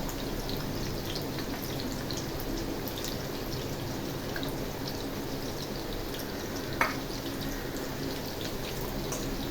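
Capsicum frying in a pan for pav bhaji, giving a steady, even crackle and sizzle with a few drip-like pops and one brief sharp click, no voices.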